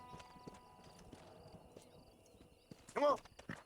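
Horse hooves clip-clop at a walking pace in the Red Dead Redemption Wild West, faint and steady, with a louder snort or whinny near the end and some voices underneath.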